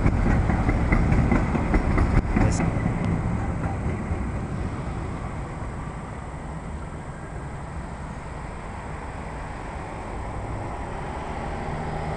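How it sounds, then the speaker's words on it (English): A low, steady rumble of a train passing at Dealey Plaza in Dallas, Texas, loudest at first and slowly fading while staying present throughout, with no voices. "Train going by."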